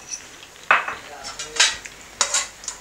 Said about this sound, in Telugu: సో ఇప్పుడు ఈ కిస్మిస్ ఇందులో వేసేస్తున్నాను